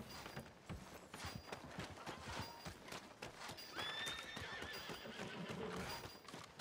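A horse in the video game Red Dead Redemption 2 whinnies loudly midway while its hooves clip-clop in a steady walking rhythm throughout, fairly close.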